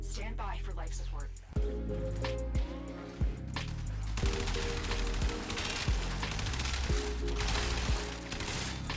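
AX-52 weapon fired in Warframe during a Steel Path Circulus run: repeated sharp, punchy shots in an irregular rhythm over a dense, constant bed of game music and effects.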